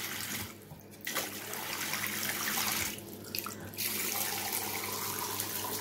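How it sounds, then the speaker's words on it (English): A chrome bathroom basin mixer tap runs steadily into the sink, a continuous close hiss of flowing water with two brief dips as the flow is adjusted. "just gonna turn the tap on to test it"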